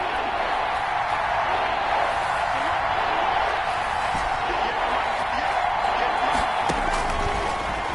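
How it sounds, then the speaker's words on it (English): Stadium crowd noise from a PS4 American football video game, a steady roar building ahead of a big third down, running continuously as a loud, dense wash throughout. "The crowd getting into it as we come up on a big 3rd down."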